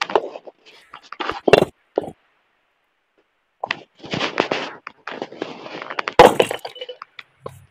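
Stone broken by a stone-breaker, with several sharp cracking and smashing impacts in bursts, a loud crash near the end, and a long quiet gap in the middle; some voices may be mixed in.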